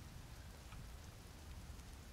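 Rain pours down in a forest in the video game The Forest, a dense, even hiss that holds steady and alone throughout.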